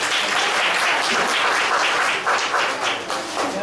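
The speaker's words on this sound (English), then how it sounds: "Give a round of applause." An audience at an in-house training session gives a round of applause, a steady wash of many hands clapping at close range that thins slightly near the end.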